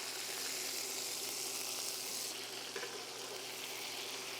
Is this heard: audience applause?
no